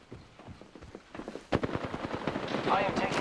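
Rapid automatic gunfire in Apex Legends, bursts of quick repeated shots that grow louder and denser, with character voices speaking over the shooting.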